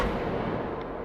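A grenade bursts in a video game, a dense, loud roar of blast noise that holds steady for about a second before cutting off abruptly.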